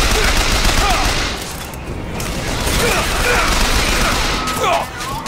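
Enemy gunfire in Bioshock Infinite comes as a dense, loud rattle of shots and clattering impacts aimed at the player, with a voice talking over the shooting.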